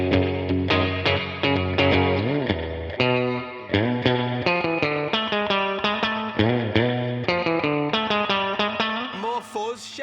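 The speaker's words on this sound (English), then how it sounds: "give us some more reverb, and can you get us a bit of slap back?" Electric guitar playing a steady run of chords and bent notes, soaked in added reverb with a slapback echo and some distortion, loud and continuous throughout.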